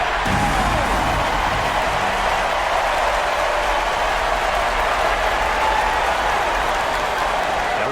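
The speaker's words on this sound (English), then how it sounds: "Fans, please give a big round of applause for you, this squad." Steady, dense crowd applause from the video game WNBA 2K23 fills the space, many hands clapping continuously at an even level without a break.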